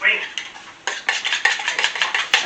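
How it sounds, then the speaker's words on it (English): A fork or whisk beating eggs in a bowl, a rapid run of bright clinking strokes against the bowl, close and fairly loud, following a brief spoken moment at the start. "need to beat my eggs up just a little bit more"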